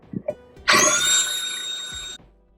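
Power drill boring a hole in a gourd during repair: a loud, whining burst of roughly one and a half seconds from close by, preceded by faint handling knocks and ending abruptly.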